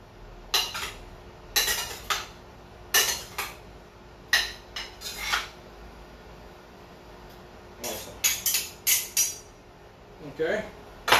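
A metal Saladmaster cooking pot lid is set back on and shifted, making a run of close, sharp metallic clinks and clatters in short bursts with quiet gaps between them.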